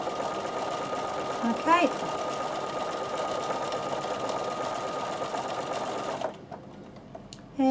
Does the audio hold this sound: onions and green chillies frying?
no